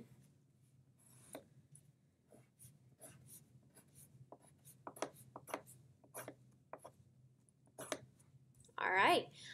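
A colored pencil sketches on paper in a series of short scratchy strokes, quick and close, with a brief louder rubbing burst near the end, while a quiet low hum runs underneath.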